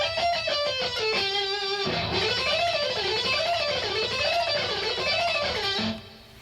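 Electric guitar lick, descending in sixths before sliding back to the starting position, then a sustained note with wide wavering vibrato, played clearly and alone.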